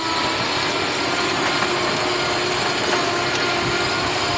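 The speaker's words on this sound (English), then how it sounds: "The Estanciera's engine is starting to rev up." An Estanciera truck climbs a dirt road, its engine revving in a loud, steady, rough drone with mechanical rattling throughout and no voices.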